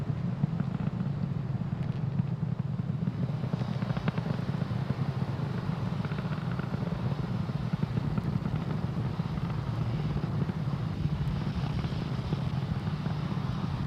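A SpaceX Falcon 9 rocket in flight, throttling down near max Q during a satellite launch. It makes a continuous, dense, rumbling roar that holds steady and loud for the whole stretch.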